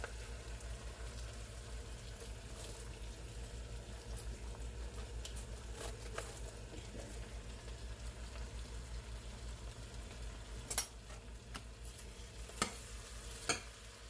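Chopped cabbage cooking in a pot on the stove: a faint, steady sizzle and simmer, with occasional sharp clinks from stirring near the end.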